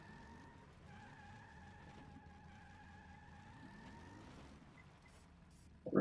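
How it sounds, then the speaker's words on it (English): A Humvee in the video game Metal Gear Survive drives along with a steady low engine rumble and a faint, sustained whine, then a sudden loud burst at the very end. "Alright, you can see it drives quite well."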